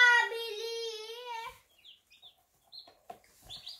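Newly hatched chicks from an egg incubator give a loud, sustained high peep near the start, followed by a few fainter, scattered chirps.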